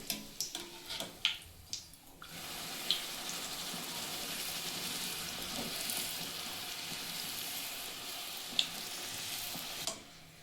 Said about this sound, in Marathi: चला अजून एक आपण भटुरा सोडून घेऊया।